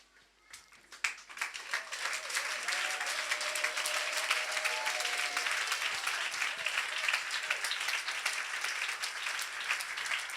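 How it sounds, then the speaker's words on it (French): Sustained applause from a church congregation at a Sunday service, a dense wash of many hands clapping that swells quickly after a soft start and holds steady to the end, with a few voices faintly audible underneath. "Bien-aimé, dépose la Bible et acclame la parole de Dieu"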